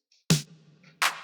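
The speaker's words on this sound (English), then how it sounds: "So it's a snare and a clap layered." Two layered snare-and-clap drum hits sound alone, close and loud. Each is a sharp crack, and the first is followed by a short tonal ring.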